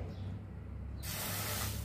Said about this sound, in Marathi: 4 वाट्या पाणी टाकू याच्यात।